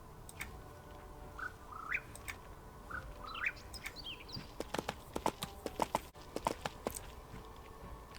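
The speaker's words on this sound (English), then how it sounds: "So we're going to take the horse over to the Misty Grove Station." A horse's hooves clip-clop in an irregular run of sharp knocks while ridden in EverQuest 2, with chirping bird calls in the game's ambience just before.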